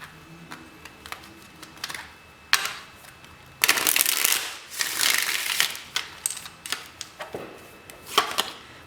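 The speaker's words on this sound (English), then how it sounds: "One more shuffle." A deck of tarot cards being shuffled in several bursts, with brisk riffling flurries separated by quieter taps and handling noises, close up and with no talking.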